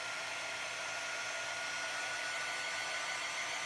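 Hair dryer blowing on wet chalk paste during a chalk font transfer, a steady, even whooshing hiss held constant throughout, fairly faint and alone with no talking.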